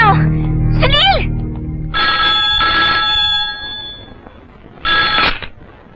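A telephone rings in two bursts of bright warbling tones, with a short pause between them, after a voice speaks briefly at the start.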